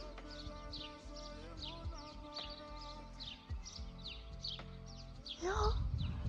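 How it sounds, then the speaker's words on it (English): Birds sing and chirp repeatedly around a Croatian village, with steady bright calls over a low background rumble. A brief louder rustle or movement comes near the end. "I love the sound of birds."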